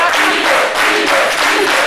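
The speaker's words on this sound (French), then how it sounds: "Merci de l'applaudir." A studio audience claps loudly and continuously in a steady, full wash of applause with a slight swell midway, and a voice is faintly mixed in.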